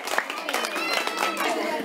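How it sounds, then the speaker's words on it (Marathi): Schoolchildren at a village primary school's voters' day event clap in steady, loud applause to welcome elected students, a dense continuous patter of many hands throughout. "सर्व विद्यार्थ्यांचं सहभागी विद्यार्थ्यांचं एकदा जोरदार टाळ्या वाजून स्वागत करा"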